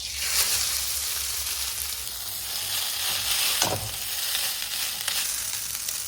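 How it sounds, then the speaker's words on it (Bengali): Chow mein fries on a gas stove with a continuous close sizzle. Midway, a short scraping stir briefly swells over the hiss. "এবার গ্যাসে চাউমিন ভেজে নেব।"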